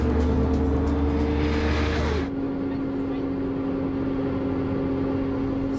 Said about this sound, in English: try the Supra on the Autobahn